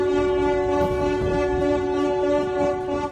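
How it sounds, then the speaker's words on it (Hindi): Tugboats sound their horns in celebration after freeing a roughly 1300-foot, 200,000-ton grounded ship, giving a loud sustained harmonic blast that holds steadily for about three seconds, then stops abruptly. "उसे खींचने वाली नावों ने हॉर्न बजाकर जश्न भी मनाया"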